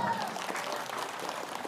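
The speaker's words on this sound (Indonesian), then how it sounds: "Tepuk tangan." An audience at a talk clapping on cue, a short, fairly quiet burst of steady applause with no gaps.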